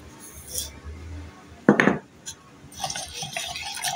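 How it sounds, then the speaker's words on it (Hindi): A spoon scrapes and clinks against a bowl while sugar, baking powder and other dry ingredients for buns are mixed, with a sharp clatter burst midway and softer stirring taps before and after. "अब इनको मैं अच्छी तरह मिक्स करूंगी।"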